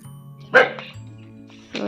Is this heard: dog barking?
yes